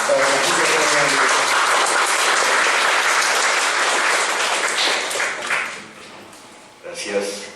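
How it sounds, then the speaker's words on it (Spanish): Loud, sustained applause from an audience at a university lecture on renewable energy in Peru, dense clapping filling the room for several seconds, then thinning out before a brief final burst. "un fuerte aplauso, por favor"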